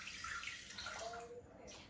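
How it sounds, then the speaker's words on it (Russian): Filtered room-temperature water is poured into a container while making pizza dough, a short splashing pour that tapers off toward the end, with no talking. "Профильтрованная вода."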